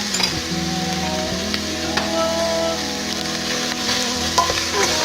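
Food with Maggi seasoning and curry powder is stirred in a sizzling pan, a near, continuous fry hiss with scraping utensil movements and no talk.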